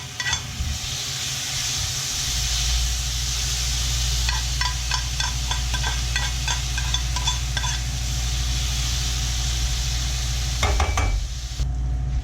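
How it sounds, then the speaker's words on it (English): Onions sizzle and brown in olive oil in a pan with a steady frying hiss, while a utensil stirs and clinks against the pan in quick bursts. A louder scrape comes near the end, and no one speaks. "we're going to add a little bit more olive oil, and then we're going to brown the onions"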